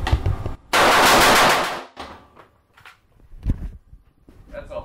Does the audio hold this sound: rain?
no